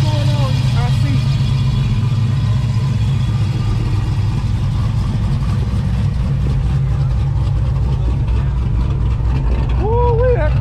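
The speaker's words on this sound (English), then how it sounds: "that car sounds good" Car engine at an evening car meet in a Decatur parking lot, a steady deep rumble running throughout with brief rises in pitch, while voices talk nearby over it.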